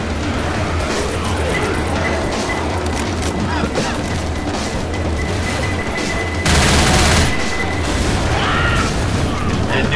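A pipe bomb goes off in Left 4 Dead 2: a loud, dense blast erupts partway through and rolls on to the end, rising over a steady bed of game noise and scattered gunfire.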